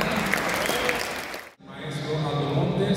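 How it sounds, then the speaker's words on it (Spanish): Audience applause at a Christmas concert, a broad wash of clapping that cuts off briefly and then resumes, with some voices mixed in. "Quiero presentar un aplauso"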